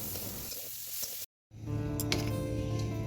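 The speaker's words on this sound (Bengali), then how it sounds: "ওই তেলে একটু সামান্য জিরে ফোড়ন দিয়ে ওর ভিতরে দিয়ে দিলাম তোমার সেই থেতো করা রসুন আর হচ্ছে কাঁচা লঙ্কা" Shrimp, cumin seeds, crushed garlic and green chili sizzle and crackle steadily in hot oil, a loud close frying hiss that cuts out briefly and then resumes, with a faint clink of utensils.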